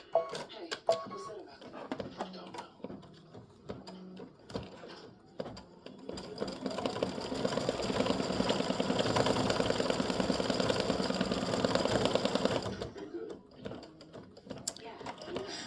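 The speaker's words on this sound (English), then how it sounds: "It'll just continue and do the satin stitching." An embroidery machine sews satin stitching in pink thread for the nose of a freestanding lace Easter egg gnome, a steady rapid chatter building after some handling noises and a few words, then stopping near the end.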